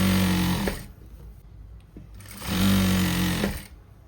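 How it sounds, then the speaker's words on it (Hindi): An electric sewing machine stitching a salwar runs in two loud, close bursts of rapid whirring, separated by a quiet pause of about a second and a half. "तो अब हमारी सलवार वाली साइड से लगेगी सिलाई।"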